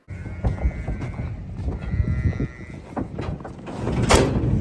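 Cows are unloaded into a new pen. Clanging gates and metal knocks mix with shuffling hooves and a few low moos, ending in a sharp bang near the close.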